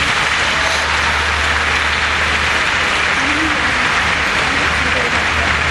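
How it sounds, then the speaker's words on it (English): An audience at a high school graduation ceremony breaks into sustained applause, a dense even wash of clapping that holds steady throughout. "please join me at this time in thanking your family members with a round of applause."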